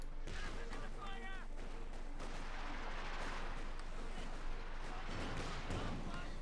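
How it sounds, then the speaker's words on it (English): Rattling machine gun fire and artillery thuds in the strategy game Company of Heroes 2 churn steadily in the background of a battle while someone talks over the top. "Machine gun fire. Machine gun fire."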